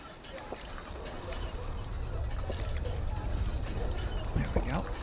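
Water pours and trickles steadily into a bucket in Fallout 4, a continuous splashing flow at close range with faint sounds mixed in.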